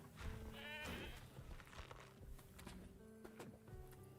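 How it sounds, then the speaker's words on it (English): A goat bleating in the dinosaur park game Jurassic World Evolution 2, a quavering cry near the start followed by quieter calls and faint footsteps over a low ambient drone. "He's found another goat."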